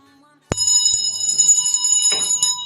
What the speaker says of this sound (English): Do I hear some tinkling of the bell and the door?